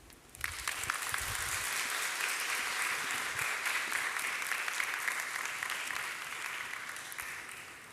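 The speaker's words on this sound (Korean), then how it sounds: "우리 귀한 말씀 전해주신 우리 소장님께 다시 한 번 더 박수 부탁드리겠습니다" A church congregation at a Sunday service for newcomers breaks into sustained applause for a guest speaker, the clapping dense and close and slowly easing off over several seconds.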